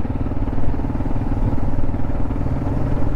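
A motorcycle being ridden, with a loud, steady engine rumble and clattering mechanical texture throughout, close and without talk.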